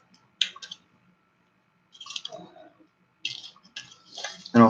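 Playing cards are shuffled by hand, two decks mixed together, giving bursts of crisp riffling clicks separated by short quiet gaps and a brief rustle, up close.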